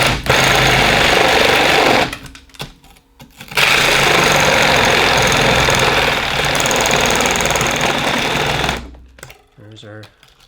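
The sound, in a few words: power saw making first cuts through chaga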